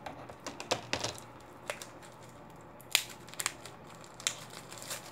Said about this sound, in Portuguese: Com o auxílio de uma tesourinha, eu vou cortar o plástico.